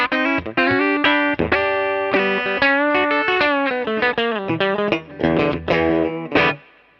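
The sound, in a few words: electric guitar through Minson M8 pedal bunyip reverb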